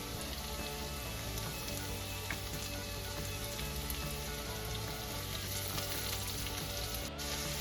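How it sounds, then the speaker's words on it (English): Chopped garlic and green chilies sizzle steadily in a hot pan, a continuous crackling fry that stays even and moderately close throughout, with no talking. "Saute for 2 minutes."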